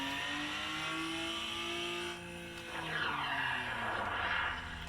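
A car in a Unity video game with manual stick shift revs its engine, the pitch climbing and dropping through gear changes, then drifts with a rising tire squeal toward the end, loud and continuous with no talking.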